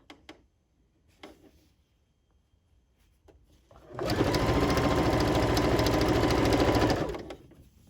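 After a few faint clicks and handling noises, a sewing machine runs a straight stitch on a skirt in one loud, steady three-second burst of rapid needle strokes, close up, then stops.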